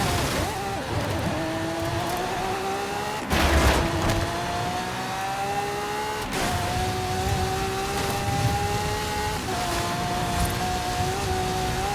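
A car in a video game drives around the perimeter of an arena wall toward a stadium, its engine holding a steady, rising whine that shifts pitch at gear changes, with a few louder thumps along the way.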